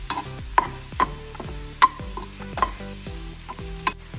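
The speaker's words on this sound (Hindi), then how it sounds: "सगळे बरे मिक्स करून घेवया।" Prawns coated with spices and ginger-garlic paste are stirred in a sizzling pan, a utensil scraping and knocking against the metal in a regular rhythm of sharp taps over a low fry, close and without talk.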